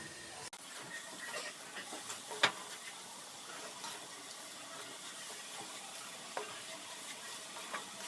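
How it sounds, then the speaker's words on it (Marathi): A spoon stirs sweet modak filling of sugar in a pan over low heat, giving soft scraping strokes over a faint continuous sizzle, with occasional sharper clicks. "साखर विरघळेपर्यंत छान हलवत राहायचं मंद आचेवर"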